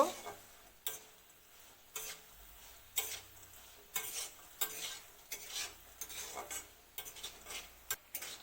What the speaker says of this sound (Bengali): বড়ি খুব ভালো করে ভাজা করে নিতে হইব